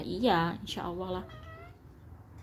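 A pet cat returning home gives a few drawn-out meows in quick succession, fairly close, while a person speaks briefly nearby.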